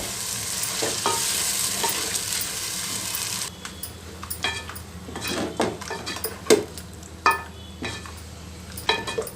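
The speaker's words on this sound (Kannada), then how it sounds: "ಈಗ ರುಬ್ಬಿರೋ ಅಂಥ ಮಸಾಲೆ ಸೇರಿಸ್ತೀನಿ ಎಣ್ಣೆಯಲ್ಲಿ ಚೆನ್ನಾಗಿ ಫ್ರೈ ಮಾಡ್ಕೋಬೇಕು" Ground masala being fried in oil and stirred in a pan for soya curry, with a steady loud sizzle at first, then quieter frying broken by sharp scraping and stirring knocks of a spoon against the pan.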